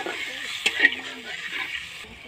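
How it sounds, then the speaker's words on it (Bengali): Sour tamarind fish curry being stirred in a pan, a soft scraping swirl over a steady low sizzle with a couple of brief knocks near the start. "তেঁতুল টক দেওয়ার পরে জল দিয়ে দিলাম, হালকা করে নাড়াচাড়া করে দিলাম।"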